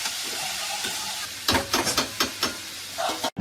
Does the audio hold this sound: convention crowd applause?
no